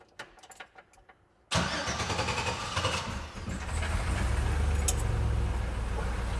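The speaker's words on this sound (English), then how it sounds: "crank it over and see." An old hot rod Jeep engine that has sat for a while cranks briefly amid faint ticking, then catches and roars to life, settling into a steady, loud, rumbling idle close by.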